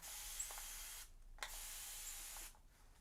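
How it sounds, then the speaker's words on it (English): Two bursts from a spray bottle while washing up at a kitchen sink, each a long, steady hiss of about a second, close and fairly quiet with a short pause between them. "Right, I'm spraying that."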